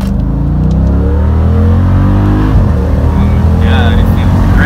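A Copart salvage car on a snowy test drive accelerates, its engine note rising steadily and loud from inside the cabin, with people talking over it.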